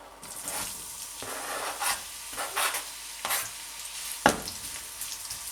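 Chopped onion sizzles in a pan as the start of a sofrito for bolognaise sauce, a steady close frying hiss with a few soft stirring scrapes and a sharper clack near the end, no voices.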